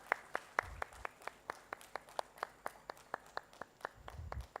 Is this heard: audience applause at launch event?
yes